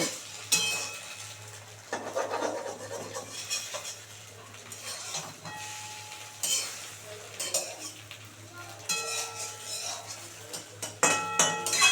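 Egg omelette frying in a pan, with a soft background sizzle broken by repeated scraping and clinking of a metal spatula against the pan, close and fairly quiet.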